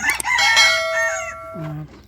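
A splash Wyandotte rooster crows once, close and loud: a single drawn-out, ringing call that falls away at the end.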